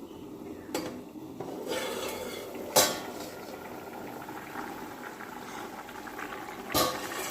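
Potatoes simmering in a covered pot: a low, steady bubbling hiss with a few sharp clinks and knocks from the lid and pan, with no voices.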